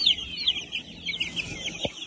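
A young Marans chicken clucks and chirps in a run of short, bright, close calls, with a brief low thud near the end.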